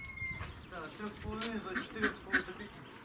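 Several ST5 ducks quack nearby in short bursts, a couple of louder calls standing out, with a person talking underneath.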